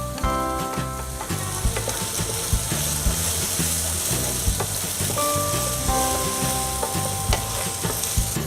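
Onions and tomatoes fry in a pan for Bengali-style poha polao, giving a continuous close sizzle with frequent stirring scrapes and clinks of a spatula, and a faint background tone underneath.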